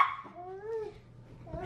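A large female dog gives a single drawn-out, whiny bark-whimper at a Target store, moderately close and fairly soft, followed by a brief fainter yelp, with no talking.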